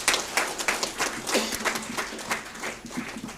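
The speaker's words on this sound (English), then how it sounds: "can we have a huge round of applause once again, please?" Audience applause at an HR conclave held by a university, a lively burst of many hands clapping with distinct individual claps standing out, steady and moderately near, and faint voices mixed in.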